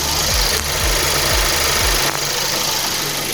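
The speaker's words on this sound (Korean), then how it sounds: "제가 바로 한번 엔진 소음 담아보도록 하겠습니다." A 2016 gasoline midsize sedan engine idling close up with the hood open, a smooth, even hum broken by a few low rhythmic thumps early on.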